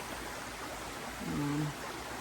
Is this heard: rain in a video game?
no